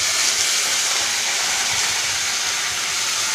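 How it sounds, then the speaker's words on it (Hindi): Continuous sizzling hiss of mustard seeds spluttering in hot oil, steady and close, with no voices. "इस तेल में राई डाली। राई चिटकते तक हम इसको डालते हैं।"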